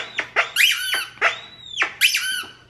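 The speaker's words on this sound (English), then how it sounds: "This one squeaks for a long time." A squeaky dog toy shaped like a Super Nintendo controller, squeezed in quick repeated bursts, each a high wheezing squeak, close and loud with short gaps between.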